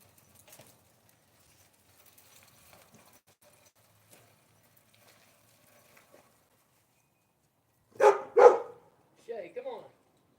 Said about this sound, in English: The dog goes crazy over it.